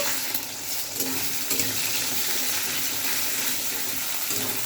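Two salted eggs sizzle steadily in a pan while a metal spatula breaks them up and stirs them into a bhujia-style scramble, giving a close, continuous frying hiss with faint scraping.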